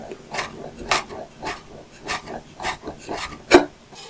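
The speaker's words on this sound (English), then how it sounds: "And now we're just going to chop them really finely." A knife finely chopping ingredients for chow mein on a board, with about a dozen crisp, evenly spaced close taps and one louder strike near the end.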